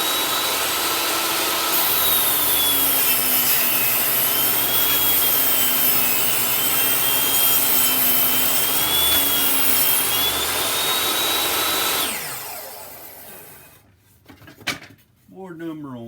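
A power saw rips wooden boards down to 1 3/4 inches, a sustained loud whining cut for about twelve seconds that winds down into quieter handling noises.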